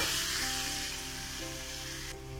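Biryani spice masala sautés in a pan for egg biryani, a brief, even sizzle with a soft hiss close at hand and no voices.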